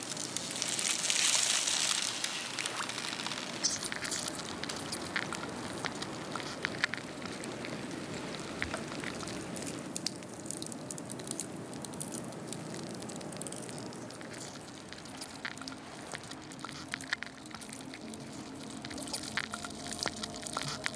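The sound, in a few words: air bubbles popping in compressed Antarctic glacier ice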